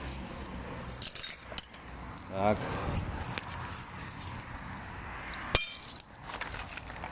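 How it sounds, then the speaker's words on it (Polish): Thin glass pieces clink and jingle as they are picked up during a cleanup, a few brief bright rattles against outdoor background noise, with someone talking throughout. "Tu trochę szkła, ale to jest takie cienkie szkło."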